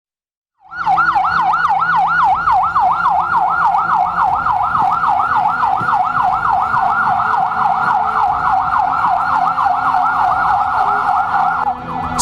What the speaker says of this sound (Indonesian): sejumlah mobil ambulans hilir mudik bawa korban keracunan ke posko darurat dan rumah